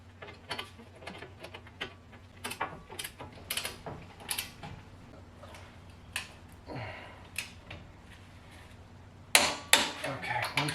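Ratchet wrench clicking as 18 mm bracket bolts are tightened on a Chevy Tahoe upper control arm during a home suspension repair; rapid close-up ratcheting bursts with metallic clanks, a louder burst near the end.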